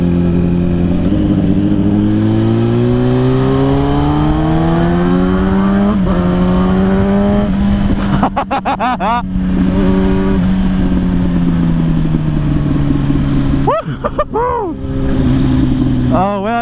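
A demo motorcycle on a test ride, a 2006 model, revs hard close up with rising and falling engine pitch through gear changes, with two sharp throttle blips near the end and wind rushing throughout.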